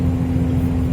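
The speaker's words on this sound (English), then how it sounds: "you hear the exhaust back there" A car exhaust drones steadily as the car cruises at about 68 mph with the windows up, a loud, even low rumble with a constant tonal hum and no voices.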